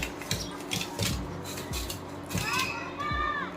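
Crispy deep-fried chicken aloo chops, potato patties stuffed with meat, being handled and poured out after frying, giving dry crackly rustles and taps with a few light clinks, close and moderately loud.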